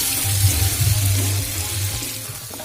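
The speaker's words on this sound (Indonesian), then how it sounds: "Lalu kita tumis sampai dia itu benar-benar matang." Chopped lemongrass, cut small, sautés in a pan for a rawon empol spice paste, giving a steady, soft sizzling hiss over a low hum with no talking.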